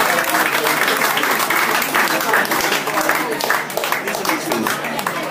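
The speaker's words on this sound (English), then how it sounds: "Can we have a nice big round of applause for Lisa, please?" A live audience claps steadily and loudly at a charity event promoting awareness of animal abuse, the dense applause holding for several seconds before easing slightly.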